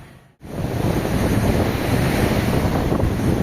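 Strong habagat monsoon wind sweeps a beach, roaring and buffeting the microphone loudly and without a break, with surf blended into the rumble after a brief dip at the start.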